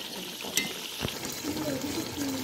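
Water from a jug pours into a pot of frying chicken pulao, a continuous splashing rush with a brief clink, while a voice speaks quietly underneath.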